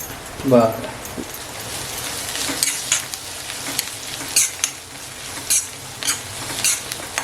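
Onion with a ground paste of ginger, garlic and green chillies frying in a pan, heard as a moderate sizzle with scattered stirring scrapes and clinks; a voice briefly speaks over it near the start.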